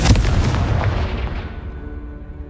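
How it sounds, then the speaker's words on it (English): A Confringo spell explodes in Hogwarts Legacy with one loud, close, booming blast that rumbles and then fades away over about two seconds. "Confringo."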